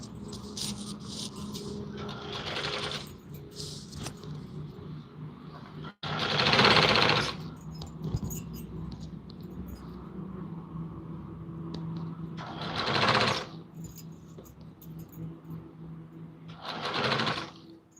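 A sewing machine stitching a Patiala salwar, with several short, loud, close bursts of rapid mechanical stitching separated by quieter pauses with handling of fabric and some low background noise.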